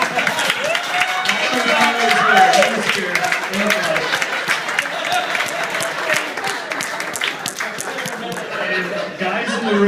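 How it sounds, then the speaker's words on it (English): Applause and crowd noise fill the room for best man Matt Spitko at a wedding reception, a steady wash of clapping with cheering voices mixed in throughout. "Big round of applause for Matt Spitko."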